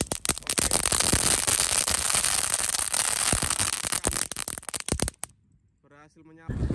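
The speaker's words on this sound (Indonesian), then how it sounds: "yang pertama kita nyalakan adalah mercon pretekan ukuran mini. Ini 2 pak sekaligus kita nyalakan" Two packs of mini pretekan firecrackers going off together outdoors, a dense, loud rattle of rapid cracks lasting about five seconds, then a brief lull before a voice speaks.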